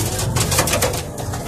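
A pigeon coos close by in a loft, a short run of soft throaty warbling notes.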